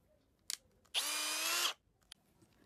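A power drill spins out a rusted, stripped screw in one short burst of under a second, bracketed by quiet clicks and handling noises, with no voices.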